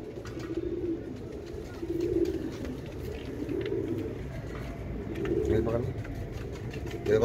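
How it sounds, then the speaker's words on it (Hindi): Sandoori Palak pigeons coo steadily in soft, repeated rolling calls from a loft, several birds overlapping over a low background rumble. "ये सुंदरी पलकों के कबूतर हैं"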